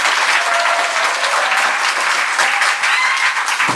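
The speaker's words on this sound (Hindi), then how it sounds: "एक बार जोरदार तालियां लगा के दिखाओ एक बार।" Schoolchildren at a government school event clap loudly together, a dense, sustained roar of applause filling the whole stretch without pause.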